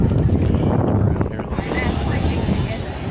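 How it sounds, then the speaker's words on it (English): Steady wind gusting across the Atlantic City boardwalk on a breezy day, a dense low rumble buffeting the microphone for the whole stretch, with faint voices mixed in. "It's a little windy."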